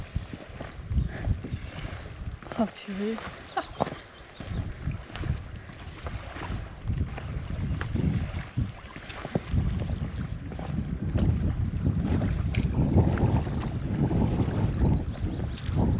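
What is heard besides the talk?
wind blowing outdoors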